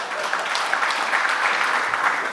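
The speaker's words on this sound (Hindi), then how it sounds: "तो इसलिए पहले तो तालियां बजाओ जी।" A crowd at an awards conclave in Indore claps steadily, giving a dense, even wash of applause throughout with no voices standing out.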